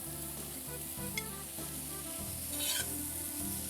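Rice is stirred into a pan already sizzling with onions, red pepper and parsley, giving a steady close frying hiss with a couple of brief scraping stirs, and no voices.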